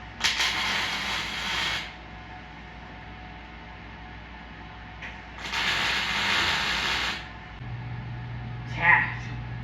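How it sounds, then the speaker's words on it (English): Tack welding on a 1968 VW Baja Bug body: two hissing, crackling bursts of a couple of seconds each over a steady background hum, followed by a brief voice near the end. "I'm just gonna go ahead and tack it in."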